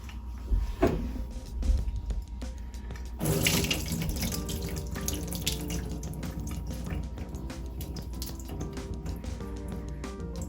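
Tap water pours steadily into a strainer of lentils, a close, continuous splashing and hiss that starts after a couple of small knocks and runs on without talk.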